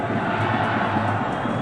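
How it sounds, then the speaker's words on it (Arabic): A dense, steady roar from Najaf football fans cheering and chanting in the stands of the stadium in Najaf at an Iraqi league match, loud and continuous throughout. "اسمع جمهور النجف على المدرجات"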